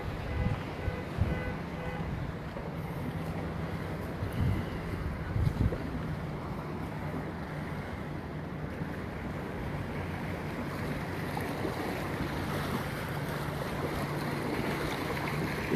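Outdoor river ambience with boats on the water: a steady broadband wash of water and wind noise buffeting the microphone, with occasional low thumps and a faint low engine hum running beneath, no talking.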